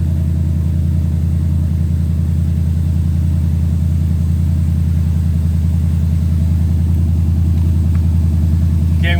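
A 2014 Ford Mustang GT with a P2096 oxygen-sensor fault code runs steadily at idle, its loud, close engine drone continuous and even throughout, with no voices.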